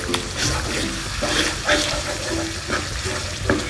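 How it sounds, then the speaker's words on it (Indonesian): Spices sautéing in oil rendered from coconut milk for rendang, a steady close wet sizzle with soft stirring scrapes and small bubbling pops throughout. "Ini kita tumis lagi sebentar sampai minyaknya"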